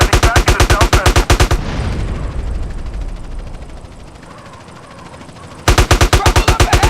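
Gunfire in the video game GTA San Andreas, a dense, continuous burst of shots and noisy blasts lasting several seconds in the middle, framed before and after by loud rhythmic music with a steady beat.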